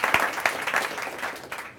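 Audience applause at a software launch event, a brief patter of clapping with a few distinct hand claps, moderately loud and fading toward the end.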